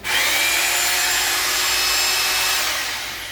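An INGCO RGH9028 800W 26mm rotary hammer drill runs in drill-only mode, giving a loud, steady, continuous motor whir close by that holds even for the whole stretch, with no voices.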